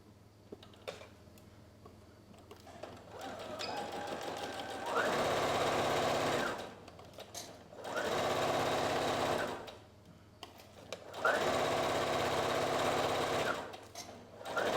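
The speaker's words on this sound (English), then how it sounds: "we're going to pin and sew along the top part here" A sewing machine stitches along the top seam of a dress in three loud, steady bursts of rapid whirring, each separated by brief quiet pauses.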